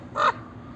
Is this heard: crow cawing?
yes